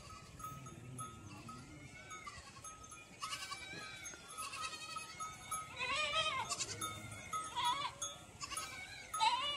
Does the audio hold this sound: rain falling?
no